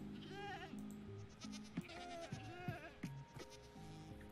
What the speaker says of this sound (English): Let's take a look at the goats.